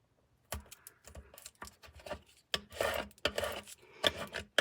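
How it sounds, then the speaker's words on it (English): Transfer tape is burnished on a weeding block with short, uneven scraping and rubbing strokes, close and quiet, separated by brief pauses. "Give it a good burnish"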